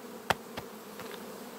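A steady low buzz of honey bees covers frames in a hive during September, broken by a couple of crisp knocks and faint rattles as the frames are handled.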